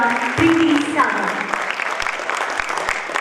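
A theatre audience at a drama festival applauds loudly, a dense continuous clatter of many hands, while a voice and a brief tone sit over the start of the clapping.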